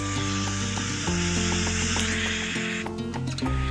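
A steady rain-like hiss with underlying tonal hum plays continuously, an even synthetic patter without pauses.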